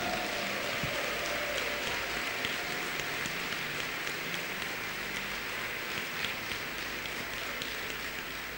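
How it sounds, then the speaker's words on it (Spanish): Church congregation applauds in praise, a continuous dense clatter of many hands clapping with a rain-like texture, steady and unbroken, with faint voices beneath. "Aplauda al Eterno"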